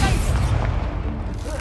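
An Incendio fire spell is cast in the video game Hogwarts Legacy, giving a deep, rumbling burst with a low, booming body that rolls on steadily for over a second.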